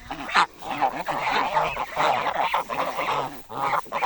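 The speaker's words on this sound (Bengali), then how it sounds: "এই যে রাজহাঁস, কত শত রাজহাঁস।" Hundreds of geese at Alta Dighi pond, a large lake, honk loudly and repeatedly in overlapping nasal calls from a nearby flock, a continuous chorus with brief gaps.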